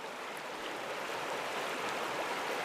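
Fast-flowing river water rushes steadily in a trout stream under a clear sky, a continuous broadband wash at moderate distance with no talking.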